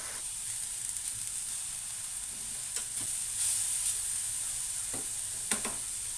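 Coriander leaves fry for mint peanut chutney, giving a faint, steady high hiss with a few soft stirring clicks and no talking.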